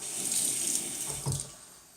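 Shaving soap lather rinsed under a running tap, with a close steady hiss of water into a sink and a brief splash near the end before it quiets.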